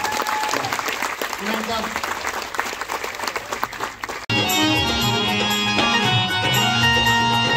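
An audience at a Dhamma evening of Buddha and Bhim songs claps loudly, giving a dense, steady burst of applause for about four seconds before it cuts abruptly to music.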